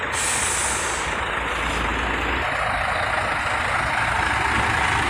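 A Sempati Star Scania K360 bus with air suspension pulls in and settles, its loud, steady engine rumble filling the scene while a sharp hiss of air brakes bursts out at the start and the engine keeps droning.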